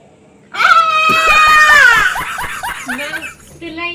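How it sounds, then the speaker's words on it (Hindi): A woman at a doctor's clinic lets out a loud, high-pitched scream lasting over a second, trailing into broken, laugh-like wails and voices. "मैम चिल्लाइए मत,"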